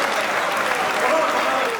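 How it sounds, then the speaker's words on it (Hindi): Applause from the audience at a Hindi comic poetry gathering welcomes the poet Keshar Dev Marwari to the stage: a dense, steady wash of clapping that fills the short moment at close, even loudness. "बहुत जोरदार तालियां बजाकर केसरदेव मारवाड़ी को आमंत्रित करिए"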